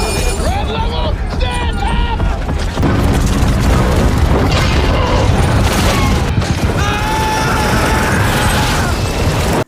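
A damaged military plane explodes with a loud, heavy boom and crashing debris, followed by a sustained roar, with a voice talking over the noise.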